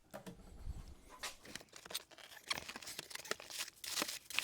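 Close crinkling and tearing of packaging while unboxing a Brewtaurus PF75L, with rustling paper, plastic boxes and cardboard scrapes in irregular bursts.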